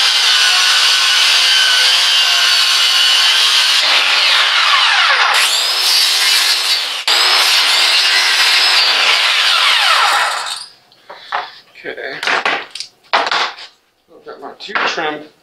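Wooden shiplap boards are being cut with a power saw during a travel trailer renovation, a loud continuous whining cut lasting about ten seconds, followed by short bursts of sawing and clatter.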